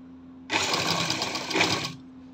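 A sewing machine stitches lace onto an angrakha top in a single burst of about a second and a half, a fairly close, even mechanical whir that starts and stops cleanly against a quiet room hum.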